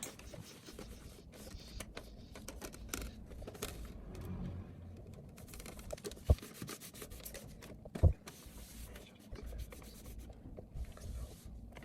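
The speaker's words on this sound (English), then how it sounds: "on our way to the disk reader, we give it a proper clean on the outside" The outside casing of a PS3 Fat disk reader being cleaned by hand, soft close-up rubbing and scrubbing strokes with a couple of faint knocks, quiet and without speech.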